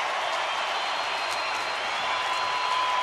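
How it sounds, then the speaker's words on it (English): A large baseball stadium crowd in Texas applauds Joe Nathan and the Rangers, a dense, distant wash of clapping and cheering that holds steady throughout, with no clear voices on top. "they are standing applauding Joe Nathan and the Rangers"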